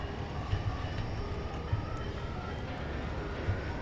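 A train ride in F.E.A.R. 2 Project Origin: steady low rumble of rolling rail cars with periodic soft clunks of wheels over joints, fairly quiet and continuous.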